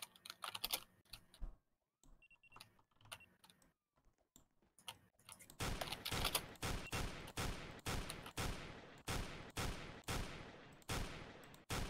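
Rapid gunfire from a gun in the video game Crane County, beginning as sparse irregular clicks and shots, then settling into a steady, evenly spaced series of sharp, fairly loud reports that carries on for several seconds.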